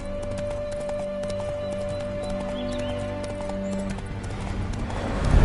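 Roach, a horse in a video game, trots with rapid rhythmic clip-clop hooves close by, a snort or whinny mixed in, and a rising rush of noise at the end.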